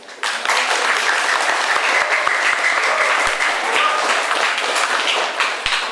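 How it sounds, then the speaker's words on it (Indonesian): Steady applause from an audience at a Microsoft Imagine Cup 2015 roadshow event, dense and sustained for several seconds without a break. "yuk saya minta kita tepuk tangan"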